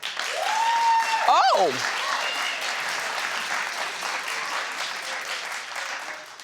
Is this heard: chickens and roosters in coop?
no